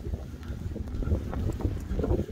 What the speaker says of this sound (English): I can hear the wind whipping around.